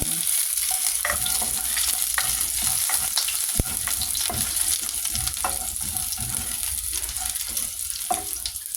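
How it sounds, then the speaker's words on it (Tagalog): Garlic sizzles and fries in a pan as the base for sweet and sour fishball, a constant crackling hiss with occasional scraping stirs and a sharp utensil tap, close and steady with no talking. "Ito, gigisa na natin. Dahil walang sibuyas, ito na lang bawang."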